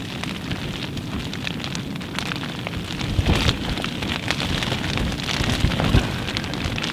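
Rain patters steadily on a small tent at a coastal camp, close and fairly loud, with dense drops drumming on the fabric and a few heavier splats and brief gusts, no talking.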